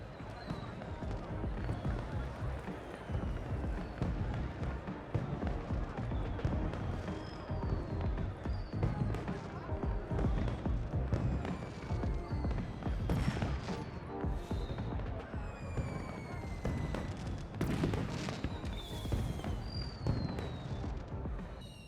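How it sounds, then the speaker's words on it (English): A fireworks display at a gala in the Beyond a Steel Sky video game sets off rapid, irregular crackling bursts and pops, with whistling streaks, over a continuous busy background. "She needs to stay on top of all this whole firework display, so I doubt it."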